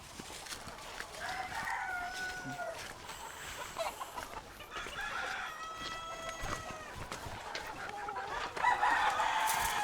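Country chickens on a native poultry farm in Karnataka cluck and crow steadily, with several birds calling close by in a quiet setting and occasional faint movement noise between calls.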